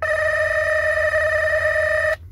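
Two telephones on a Kocom 611PG interphone system ring together on an incoming call: a steady, loud electronic ring that sounds continuously for about two seconds, then cuts off abruptly.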